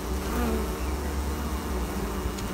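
Honey bees buzzing densely at a beehive entrance, a steady close hum of many wings with no pauses.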